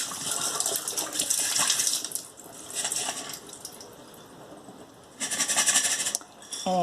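Sprouts being rinsed under running water give a splashing, gushing flow that comes in several bursts, rising and falling, with a brief metallic clink near the end.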